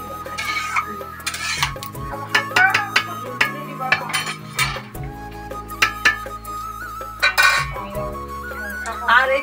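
Spice-coated fish pieces for paturi go into a pan with clinks and scrapes of utensils against metal, a run of irregular clattering knocks, fairly close and loud, with no talking.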